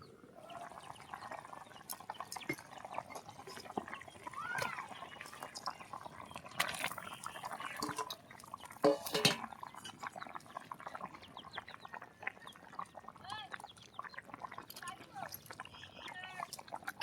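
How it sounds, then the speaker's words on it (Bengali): Katla fish curry with eggplant and potato simmers in a pot as fish pieces go in, a faint bubbling and liquid burble with a few soft splashes and clinks, under occasional nearby talk. "ফুটে গিয়েছে, মাছগুলো দিয়ে দেবো।"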